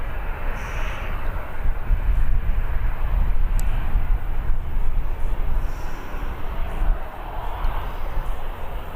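A Ryanair jet at Birmingham Airport gives a steady, moderately distant engine roar that swells slightly and holds level throughout, with no voices over it.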